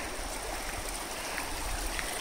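A mountain stream near a homestay runs steadily close by, its continuous broadband rush of flowing water filling the whole stretch without pause or talk.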